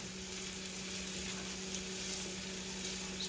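Onions sauté in a pan with a steady, even sizzle and soft stirring, close and continuous with no voices.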